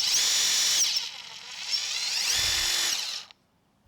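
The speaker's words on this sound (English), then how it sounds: "let's take a look at that impact driver again real quick" RIDGID subcompact impact driver whirring at varying speed, a loud high-pitched motor whine that rises and falls in pitch, dips briefly, resumes, then cuts off abruptly near the end.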